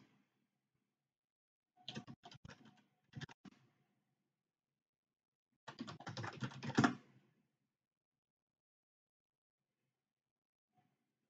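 A computer keyboard typed on to enter a terminal command, short bursts of quiet, close key clicks separated by silence, with a longer flurry of keystrokes in the middle.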